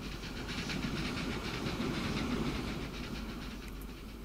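Trains in the Transport Fever tycoon game, including an LNER Class A3 locomotive, rumble along steadily with soft clickety-clack and hiss, heard alone without talk.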